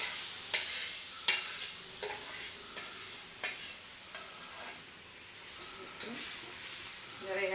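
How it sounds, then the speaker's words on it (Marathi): Vermicelli is dropped into boiling water in a pot and stirred, with a steady faint bubbling hiss and several sharp scraping knocks of the spoon against the pan. "आता ह्या पाण्याला आपली उकळी आलेली आहे, त्याच्यामध्ये ह्या शेवया टाकायच्या"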